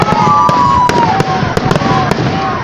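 Fireworks go off over Voronezh for the city day celebration: loud, close bangs and crackles go off at irregular intervals, while whistling rockets rise and fall through a continuous roar.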